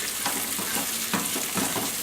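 Red and green chilies and garlic sizzle in a frying pan for a pasta sauce, a constant close hiss with soft rhythmic scrapes as they are stirred.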